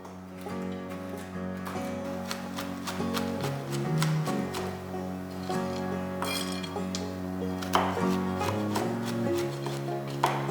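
Nuts are chopped on a board with a chef's knife, giving a run of crisp, irregular taps and clicks close by, over steady background music.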